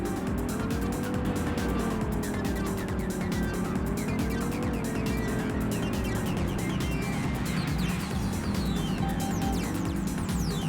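A racing car in the PlayStation game Vanishing Point drives with a steady engine drone that rises and falls in pitch, with tire noise and in-game music running continuously at a constant loudness.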